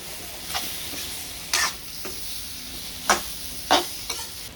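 Fried dried loitta fish being added and stirred in a hot pan, soft sizzling under several sharp scraping stirs spaced irregularly, close and fairly quiet.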